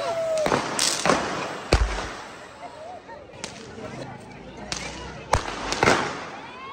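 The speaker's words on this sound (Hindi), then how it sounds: "कहीं से भी पटाखा आ सकते हैं" Diwali firecrackers and fireworks burst at a celebration in Pakistan, giving sharp, irregular cracks and bangs at varying distances, some close and loud and others far off, over a crowded, noisy background with voices.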